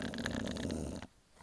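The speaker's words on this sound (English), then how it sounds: "snoring Odin." A dog named Odin snores close by, one deep, rumbling breath that stops abruptly and leaves near silence.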